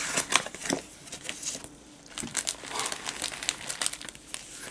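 Plastic packaging crinkles and crackles as a rolled art sticker is unwrapped, a close, irregular run of rustles with a short pause partway through and no talking.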